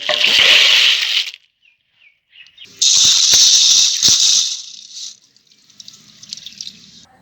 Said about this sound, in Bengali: টাকুয়াটা আমি ভালো করে ধুয়ে নিয়ে বার করে নিই